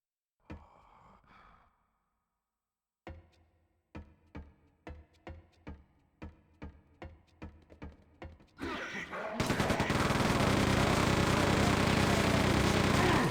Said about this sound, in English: This minigun is one of my favorites in FPS, I think.